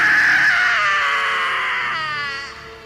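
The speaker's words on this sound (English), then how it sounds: "there was a scream that came from the TV" A high, sustained scream from a television during a scary movie, loud and continuous for about two and a half seconds before trailing off.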